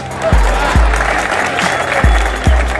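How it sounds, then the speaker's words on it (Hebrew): An audience breaks into loud, sustained clapping, a thick continuous patter broken by several deep thumps nearby. "מגיע לו מחיאות כפיים"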